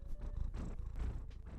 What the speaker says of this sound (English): Oh, he's purring.